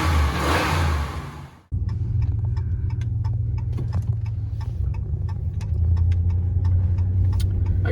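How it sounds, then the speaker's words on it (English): A truck engine being jump started: a burst of cranking, a sharp cutoff, then the engine catching and settling into a steady idle with a rapid ticking over it. The idle swells slightly near the end, and no one speaks. "he told me to try to jump start the truck, see if we can get it going"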